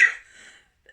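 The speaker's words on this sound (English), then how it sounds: "I need to cough stuff off my lungs." A single short throat clear or cough, close and moderately loud, trailing into a soft breathy tail and ending with a tiny faint click of breath.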